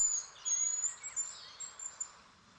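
Faint, very high-pitched chirps and thin whistling calls from a small bird in a forest, repeated in quick bursts against a quiet background.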